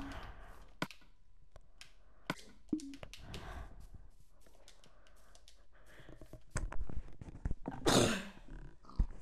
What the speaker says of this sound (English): I just keep sneezing.